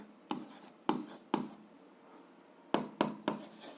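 Close, quiet handwriting of an algebra equation, six distinct scratching pen strokes in two clusters separated by a short pause, with no voices.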